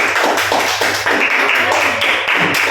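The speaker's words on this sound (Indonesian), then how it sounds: "Tepuk tangan untuk kelompok 2." Steady clapping from a group in a classroom, a dense patter of hands with a voice briefly heard underneath.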